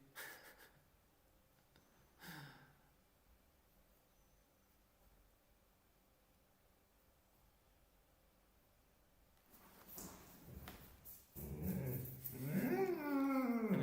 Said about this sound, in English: I think my dog doesn't want to walk anymore.